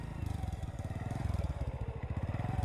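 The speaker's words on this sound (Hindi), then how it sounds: "राहुल अपनी बाइक मोड़कर आयशा के ऑफिस के नीचे पहुंचता है।" A motorcycle engine idles and putters with a fast, regular thumping beat as the bike rolls up in a Hindi audio drama, moderately close and steady.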